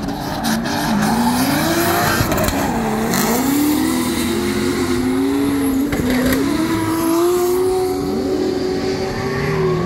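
A Formula Drift car drifts at WeatherTech Laguna Seca Raceway during testing, its engine droning steadily and loudly with a sustained high tire squeal running throughout.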